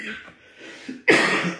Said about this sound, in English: I just got the lingering cough.